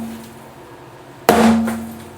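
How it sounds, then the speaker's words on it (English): A hammer strikes the dented engine oil pan of a 7.3 Powerstroke diesel being torn down, a single loud metallic bang about midway that rings briefly, following a quiet, low hum. "You're gonna beat on your oil pan with a hammer?"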